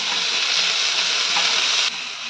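Tomato with garlic and ginger paste frying in a pan over softened onion, a bright dense sizzle stirred close by, steady and loud, easing slightly near the end.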